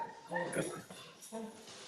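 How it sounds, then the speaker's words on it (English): Dogs in a home studio bark in a few short, muffled bursts, faint and somewhat distant, with a voice speaking nearby. "my studio dogs are barking"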